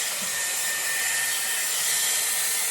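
A Dyson Airwrap blows hair dry with a round brush attachment, giving a loud, continuous airy whoosh with a high whine, steady throughout.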